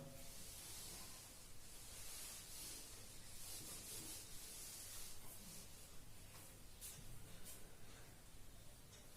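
An eraser or duster rubs writing off a classroom board during a maths lesson, a long continuous scrubbing hiss, faint and steady, with no speech.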